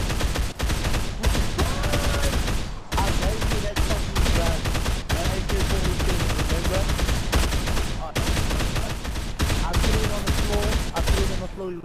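Dense, sustained gunfire from a Dead Island multiplayer session on PS3 fills the stretch, rapid bursts with a few short breaks, loud and close, with players' voices occasionally mixed in.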